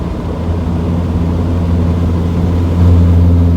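Mercedes Sprinter T1N van driving with a sticking turbo, heard as a steady, close, low engine drone that holds even, then swells louder in the last second as it pulls harder.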